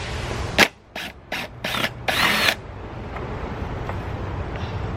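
Screws being backed out of a lawnmower housing with a power drill, several short whirring bursts in a quick series, the last one longer, then a quiet workshop background.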